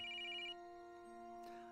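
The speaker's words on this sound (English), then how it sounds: "A sudden phone chime pulled him from the reverie." A message chime from a phone in the video game The Girl in White, a clear melodic tone that rings out at first and then fades, leaving a faint sustained hum.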